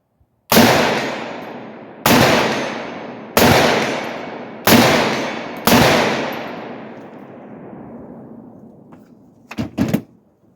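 Five sharp, loud rifle shots from an AR-pattern rifle chambered in 7.62x39, fired at a regular pace about a second apart, each cracking hard and then fading into a long echoing tail, followed by a few quieter clatters.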